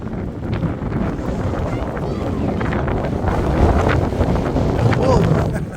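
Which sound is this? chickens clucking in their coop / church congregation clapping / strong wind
strong wind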